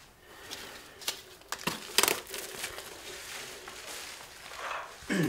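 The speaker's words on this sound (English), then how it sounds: "Just packing everything away" Packaging for a MEGA65 DevKit computer is handled while being packed away, giving a few scattered crinkles and crumpling rustles with sharper crunches near the middle, close and fairly quiet, with no speech.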